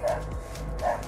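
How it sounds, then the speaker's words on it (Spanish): A dog barks out in the street, two short yaps about a second apart over a steady low background hum, moderately close and fairly faint. "Hay un perro ladrando, ¿vale?"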